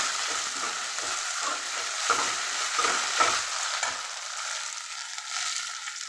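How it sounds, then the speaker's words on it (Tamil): Onion, tomato and ginger garlic paste sautéing in a pan while being stirred, with a steady sizzle and repeated scraping strokes of the spoon that settle toward the end, loud and close with no talking. "இப்போது இந்த வெங்காயம், தக்காளி இதெல்லாம் இஞ்சி பூண்டு பேஸ்ட்டு, வெங்காயம் கொஞ்சம் நல்லா வதங்கிட்டோம்."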